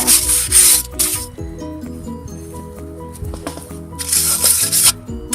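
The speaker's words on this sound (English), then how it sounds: "just keep on scrubbing until it's clean." Scrubbing on a galvanized wire rabbit cage comes through as loud, hissing rasping bursts at the start and end, with softer rubbing and faint metallic rattles in between.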